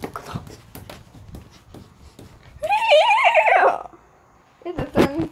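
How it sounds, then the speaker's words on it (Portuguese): A skeleton horse from the Minecraft video game gives a loud, wavering whinny that rises and falls over about a second, followed by a shorter neighing burst, with soft clicks and muffled game sounds around it. "O cavalo de esqueleto."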